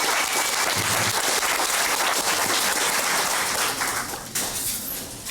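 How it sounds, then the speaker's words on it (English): A crowd at a victory party claps and cheers in sustained, dense applause that carries on steadily before trailing off slightly near the end, with no clear talking. "Cheer for yourselves. This is a victory party."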